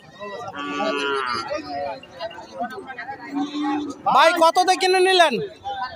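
Cows at a cattle market give several loud, drawn-out moos, one early and a longer one toward the end, amid nearby talk and crowd chatter.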